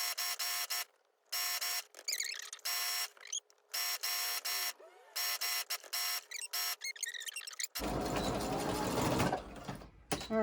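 Brother sewing machine stitching heavy upholstery fabric for an armchair cover in loud, rapid bursts separated by short pauses, then a different rougher rattling noise takes over near the end.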